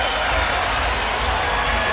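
An arena crowd at a Pacquiao–Bradley boxing match roars and cheers after the fight, a dense, loud wash of voices with no single speaker standing out.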